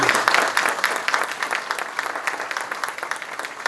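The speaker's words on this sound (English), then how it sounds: "So let's give a big round of applause for it." A round of audience applause at a high school dedication ceremony, a steady wash of many hands clapping, loud and close, fading slightly over a few seconds.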